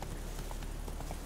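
Horse hooves clip-clop at a steady gallop in The Witcher 3, a continuous rhythmic run of close, fairly loud hoofbeats with no talk over them.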